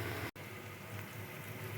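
Semolina sweets frying together in a pan over medium gas give a faint, steady rain-like hiss that cuts out briefly for an instant.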